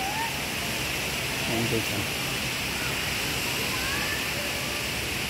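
River water flows steadily at Hinulugang Taktak in Antipolo, a broad constant rush close by, with someone talking briefly over it.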